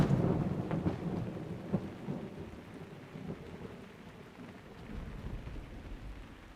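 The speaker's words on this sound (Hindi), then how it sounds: "वैसे बारिश हो रही है बाहर" Rain falls outdoors during a thunderstorm, with low rolling thunder swelling at the start and fading into a steady wash of rainfall, with no voices.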